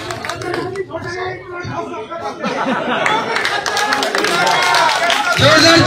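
At a village election rally in Haryana, a crowd claps and chatters around a loudspeaker voice, and the clapping swells louder and thicker over the last few seconds.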